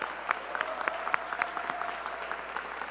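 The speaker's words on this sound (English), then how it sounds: "Give yourselves a round of applause." Applause from a crowd of school students at a mayor's attendance campaign event, a steady, moderately loud clatter of many hands with distinct individual claps standing out throughout.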